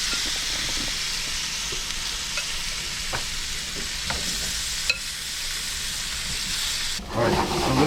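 Halved potatoes searing over medium heat in a pan, a steady close sizzle with occasional small pops and a few light stirring scrapes, ending in a brief clatter near the end; no one speaks.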